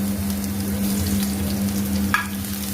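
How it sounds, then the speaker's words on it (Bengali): Chopped garlic sizzles steadily in hot oil over a low background hum, with one brief clatter of a utensil near the end. "দিয়ে দিলাম রসুন কুচি।"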